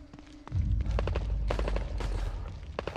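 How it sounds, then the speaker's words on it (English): Gunfire in The Evil Within 2, a survival horror video game, breaks out as a rapid series of sharp shots and heavy thumps after a brief quiet start, fairly faint overall and with no voices. "Gunfire."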